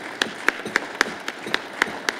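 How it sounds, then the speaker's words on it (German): Evenly spaced claps, about eight in a steady rhythm, ring out clearly in a hall as the audience thanks expert panelists at a German public event on fighting organized gangs, burglaries and car theft. "Sie haben sich wirklich einen Applaus verdient."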